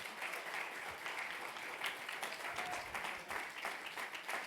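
A church congregation applauds Jesus at a minister's service, steady dense clapping filling the hall throughout at moderate level, with a faint voice briefly audible beneath.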